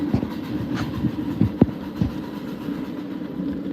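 A train passes on the railroad at a distance, a low rolling rumble marked by several rhythmic rail-joint clunks from the wheels, fairly quiet and without voices.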